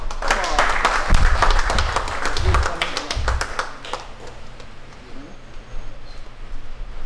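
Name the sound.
applause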